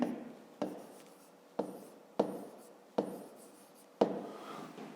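Hand-writing a fifth-grade maths exercise: six scratchy pen strokes in an even rhythm, each a quick attack trailing off, close and quiet with no voices.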